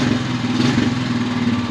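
An old Honda ATV engine idles close by, a steady, loud, even mechanical putter with a constant low throb throughout the short stretch.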